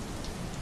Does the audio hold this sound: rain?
yes